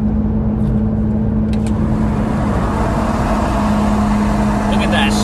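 Car launching hard at a street cruise with a loud, sustained engine drone and broadband roar close by, plus a few brief high squeaks that could be tire squeal.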